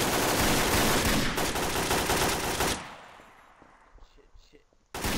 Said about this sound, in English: I just heard gunshots